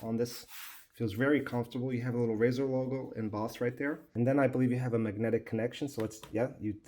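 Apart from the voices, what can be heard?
No everyday noises stand out.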